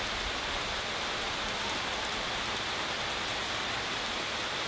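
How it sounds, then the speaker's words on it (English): Heavy monsoon rain pours in a constant, dense roar of drops hitting surfaces, loud and unbroken throughout with no voices. "suddenly the heavens have opened up and it's really raining"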